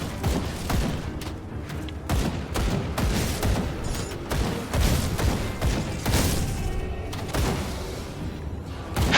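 Rapid, dense bursts of gunfire-like shots crackle continuously in Grim Dawn combat, as pierce shots fire off in a loud, steady barrage with thumping impacts layered throughout.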